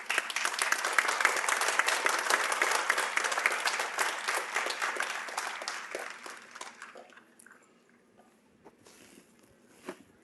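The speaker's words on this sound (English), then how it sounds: "Can we give her another round of applause?" An audience at a college commencement ceremony breaks into loud, dense applause that holds steady, then gradually thins and fades to near quiet, with a lone clap or two at the end.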